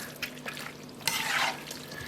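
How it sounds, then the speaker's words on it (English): Pasta water splashes into a pan of lemon pasta and gets stirred, giving soft drips and liquid swishing with a brief louder sizzle-like burst midway, close and alone. "So now I'm going to add just a bit of pasta water, stir that up again."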